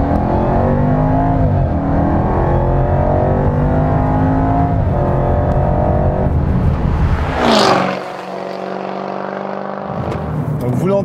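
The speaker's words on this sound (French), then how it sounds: "vous l'entendez, le V8 à compresseur, on le connaît, mais là, il se lâche totalement avec un échappement titane" Jaguar XE SV Project 8 (2018) with its supercharged V8 and titanium exhaust, loud and close, with rising and falling revs under acceleration, then a sharp pop-laden shift and a lower steady engine note. There is no talk.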